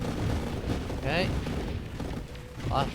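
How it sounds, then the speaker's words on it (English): Big booming explosions from the space shooter video game Nova Drift, a dense continuous barrage of heavy blasts and rumbling impacts at a late high wave, loud and layered with occasional brighter bursts. "Lots of big booming happening."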